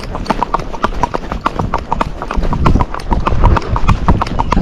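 A gaited Rocky Mountain horse trots under saddle, its hooves striking in a quick, even, close clip-clop rhythm, loud and continuous.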